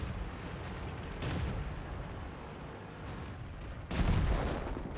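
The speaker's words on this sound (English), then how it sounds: "Artillery is firing at me." Artillery fire in the World of Tanks video game: two booming impacts land about three seconds apart over steady background rumble, the second one louder and closer.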